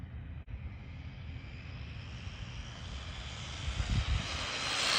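A Jetwood JC14EP RC car motor running on a 4S battery and a cheap $30 ESC winds up in a steady, rising electric whine, growing louder and more strained toward the end.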